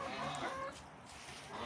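Chickens clucking in a farm coop, with a rooster among the flock, a short burst of close, moderately loud fowl calls over steady yard noise.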